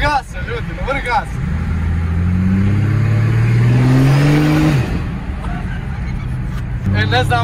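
Mercedes diesel engine fitted with a new exhaust, revving up in a rising, loud roar that peaks and drops off after a few seconds, with people talking before and after.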